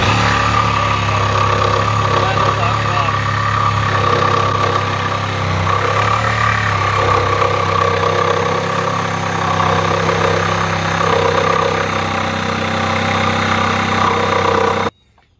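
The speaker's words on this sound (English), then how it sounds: "It's hard cutting through that brace." A power saw cuts through a wall brace during a pet door installation, its motor a loud, steady, close drone that runs unbroken for about fifteen seconds and then stops abruptly.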